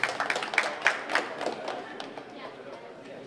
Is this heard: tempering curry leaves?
no